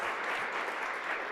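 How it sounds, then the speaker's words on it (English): Audience applause at a chamber of commerce program, a steady dense wash of clapping from many hands, close and even throughout with no voices over it. "Give them an applause."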